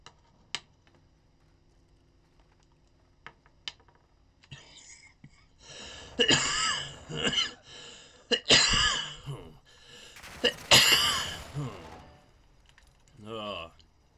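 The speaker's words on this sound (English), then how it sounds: "I don't know where this cough came from" Several scattered coughs and throat clears come from a person with a cough, mixed in with soft whispery talk and a few sharp clicks, fairly close and quiet overall.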